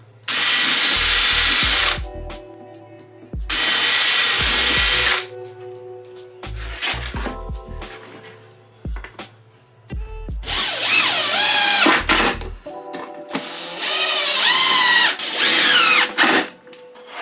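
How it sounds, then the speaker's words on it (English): Power drill boring pilot holes, several loud whirring bursts of a few seconds each separated by pauses, the later runs wavering in pitch as the bit bites into the material, recorded close up. "So I'm going to drill a few holes here."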